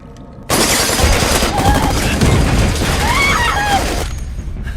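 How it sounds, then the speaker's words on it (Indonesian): Rapid gunfire and explosions from a film shootout burst in suddenly and continue loudly and densely for several seconds, with shouting voices mixed into the chaos. "terjadilah baku tembak di antara mereka"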